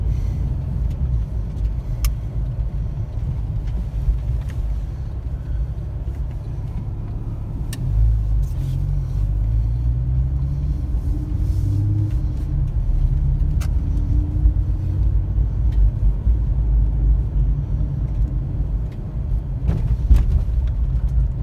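A 320-horsepower Porsche 911 Type 996 Carrera 4S engine drones steadily at close range while driving, deep low rumble with slight rises in pitch as it accelerates, continuous throughout.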